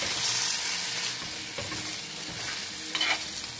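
A frying pan of thick, zesty sauce is stirred while it sizzles, a steady close scrape and hiss running throughout with a slight rise near the end.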